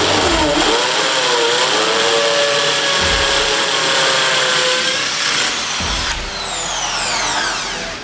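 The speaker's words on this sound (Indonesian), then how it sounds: "Selanjutnya saja kita mengebor tembok salah satu bagian tembok yang kita sudah tandai." A power drill whines at high speed, its pitch shifting as it bores into a masonry wall, with short pauses and rising tones near the end.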